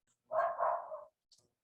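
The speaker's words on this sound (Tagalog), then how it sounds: "Ang ingay kasi ng aso namin sorry na po." A pet dog gives one short, loud bark burst, close to the microphone, followed by a faint little yip, in an otherwise quiet room.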